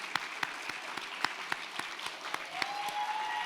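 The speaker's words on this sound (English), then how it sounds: "Y'all stand so we can give you an applause." An audience at a Governor's Small Business Summit in Houston applauds as the men in the room stand, with steady, regularly spaced claps over a soft crowd murmur.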